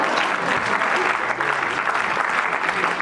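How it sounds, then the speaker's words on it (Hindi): Dense, steady applause from a large audience, clapping continuously for a few seconds. "आप ताली बजाओ, आपको पता होगा।"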